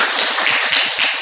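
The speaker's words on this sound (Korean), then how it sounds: "감사와 찬양과 영광의 박수를 우리 함께 올려드리시겠습니다" A congregation applauds together at a church gathering of a cooperative, with dense, steady clapping that stays loud and continuous throughout.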